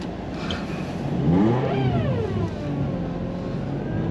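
A Honda Civic Type R FN2 front-wheel-drive engine revs hard at full throttle in first gear with traction control on, stuck in deep snow, its pitch sweeping up and falling back in a sustained close whine.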